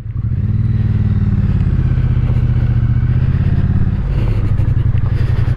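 A 2021 Triumph Bonneville T100 motorcycle engine runs loud and close while riding, a steady low throbbing drone that eases briefly and picks back up, with no voices.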